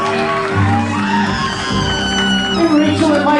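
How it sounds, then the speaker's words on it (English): Wedding guests cheer and whoop loudly for the couple over music, shouts and yells layered on a full, sustained crowd roar. "Give them a tremendous round of applause."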